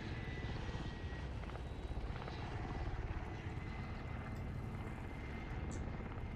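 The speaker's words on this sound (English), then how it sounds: "those choppers are inconvenient. Yeah, they're super loud." Helicopters in Call of Duty roar with a loud, continuous rotor chop and engine drone that fills the whole stretch, steady and close with no talk over it.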